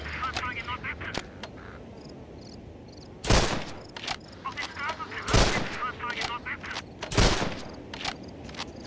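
Gunfire in the Call of Duty 3 war game on PS2, loud sharp bursts and rapid shots repeating every couple of seconds amid shouted voices and background battle noise.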